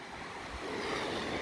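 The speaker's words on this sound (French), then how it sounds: "ça fait un petit peu de bruit quand même les vagues" Surf breaking steadily on a wild stretch of the Almería coast in Spain, a continuous broad wash of waves rolling in fairly loud and close, with some wind noise on the microphone.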